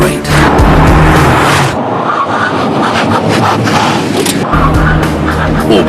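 A car accelerating, with a loud, roaring engine and road noise that surges, dips briefly, then builds again over a few seconds.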